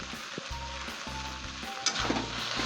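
Fenugreek greens sizzling as they fry in a pan, with quiet, regular stirring strokes breaking up a soft, steady frying hiss at close range.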